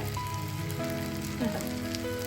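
Banana fritters (pazham pori) frying in hot oil, a steady close sizzle with a constant crackling hiss, under background music, with no talk.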